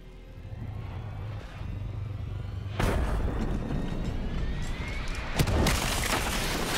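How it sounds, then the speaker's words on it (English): A giant explosion in Call of Duty Black Ops 3 erupts as a sudden loud broadband blast, followed by sustained rumbling and crackling debris with a second sharp burst near the end. "Turns out the undead have a thing for giant explosions"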